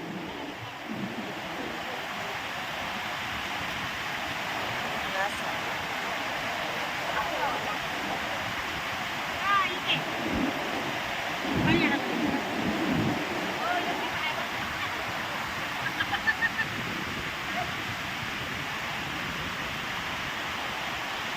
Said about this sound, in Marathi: एवढं छान पाणी चाललं आहे